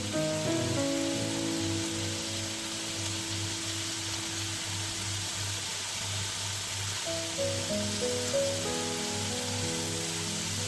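Paneer tikka roasts on a tava over high flame, giving a steady, dense sizzle that runs the whole time under a low hum, with no talking.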